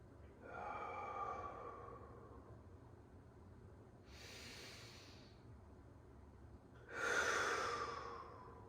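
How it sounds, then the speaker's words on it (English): Slow, deep breaths during a movement exercise: two soft, airy exhalations a few seconds apart, the second louder and closer, with a faint breathy start before them and a quiet room between. "Two more breaths."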